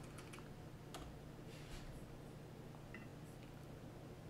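Keys clatter on a computer keyboard while code is typed for website styling, soft close clicks in irregular quick bursts and pauses over a faint steady background hum.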